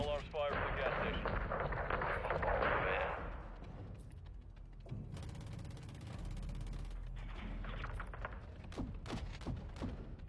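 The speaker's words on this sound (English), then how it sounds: "Seeing small arms fire from the gas station." Gunfire in the Call of Duty: Modern Warfare II video game, with thumping shots and crackling bursts after an opening loud stretch of noise, scattered sharp reports toward the end.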